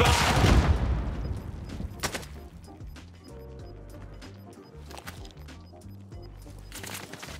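Video game gunfire in a solo battle-royale match: a loud burst of shots at the start, then scattered sharp reports and crackles over a busy, quieter background. No voices.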